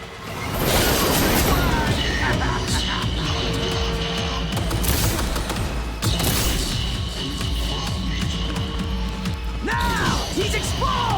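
Helicopter gunfire during a Cyberpunk 2077: Phantom Liberty cutscene, loud sustained crashing bursts and impacts over a busy action mix, with voices shouting over the din.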